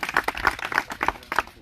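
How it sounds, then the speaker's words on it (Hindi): A village meeting audience clapping together on cue, a quick run of loud, close hand claps in an uneven rhythm that fades near the end, with no talking over it. "हाँ, एक बार ताली बजाओ जोरदार।"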